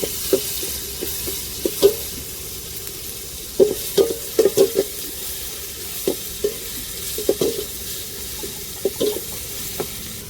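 Ginger garlic paste sautéing in a pan for crab biryani, with a steady soft sizzle under repeated clacks and scrapes of a spatula stirring at an uneven rhythm, close and moderately loud, with no talking.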